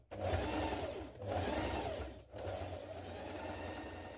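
A sewing machine bastes a jeans pocket to the side seam, running in three steady bursts of rapid whirring stitching with brief stops between, close and clear with no talking.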